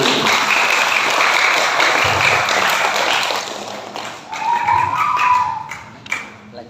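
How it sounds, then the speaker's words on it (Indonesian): Audience applause at a Ramadan quiz competition closing event, a dense, loud wash of clapping that thins toward the end, with a voice briefly heard near the finish. "Tepuk tangan."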